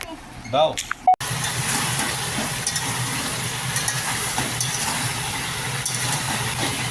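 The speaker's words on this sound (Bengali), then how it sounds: "চিকেন ভাজা চলছে এখানে" Chicken fries in a pan with a steady, close sizzle that runs on evenly over a low background hum, after a brief voice and a few clatters at the start.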